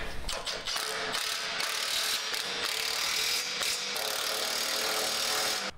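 A hand ratchet clicks rapidly and steadily, close up, while tightening the bolts of a bolt-on rock slider on a 5th-gen Toyota 4Runner. The run of clicks continues almost without pause and no one speaks.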